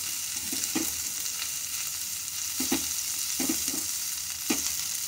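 Flat beans and curry leaves fry in a hot pan, giving a continuous close crackle with several quick clattering stirs scattered through it; no one speaks.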